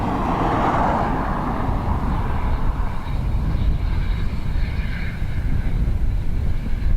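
Airliner taking off from runway 10 right at Dublin Airport, a loud, broad engine roar that swells then slowly fades and thins as the plane climbs away.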